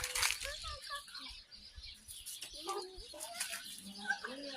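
Chickens cluck and flutter nearby in an outdoor yard by an apple tree in Romania, with scattered short calls and wing flaps while a voice speaks faintly in the background.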